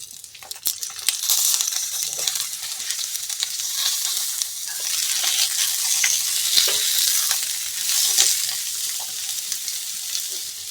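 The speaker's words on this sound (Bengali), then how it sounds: "আদাটা ভেজে নিয়েছি এবার সমস্ত সবজিটা প্রথমে তুলে দেব" Vegetables tossed into hot oil with fried ginger, giving a bright crackling sizzle that swells after an initial clatter and stays strong and close throughout, with occasional stirring sounds.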